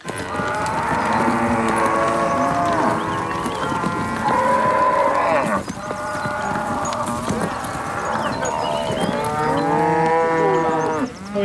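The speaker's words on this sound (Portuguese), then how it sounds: "Esse é um lote de vacas receptoras" A herd of recipient cows of common breed, carrying Girolando embryos, moo loudly and repeatedly, with overlapping long calls near and far, and hooves shuffle beneath.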